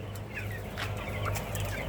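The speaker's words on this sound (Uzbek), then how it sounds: "adlerga birga bir o'xshaydigan jo'jalarimiz, dominant susekslar 35 kunlik holati" Thirty-five-day-old Dominant Sussex chicks in a poultry house, with a steady low hum under continuous overlapping chirps and soft clucks from the flock.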